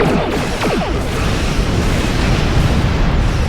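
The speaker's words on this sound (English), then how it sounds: "Fire a spread of torpedoes." Torpedo spread fired and detonating in a Star Trek Online space battle: a loud, continuous roar of blasts with rapid descending whooshes early on, dense and sustained throughout.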